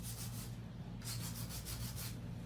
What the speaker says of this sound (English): I generally use a drill.